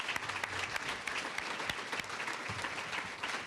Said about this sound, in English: So I'd like to give a round of applause to all of these people.